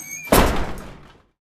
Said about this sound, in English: sprinted through the door, and slammed it shut behind him.